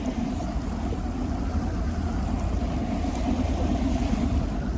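A motorboat idles on a lake after its spark plugs were gapped, giving a steady, close, low engine drone mixed with wind and water wash, with no voices.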